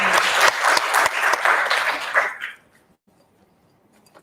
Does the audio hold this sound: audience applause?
yes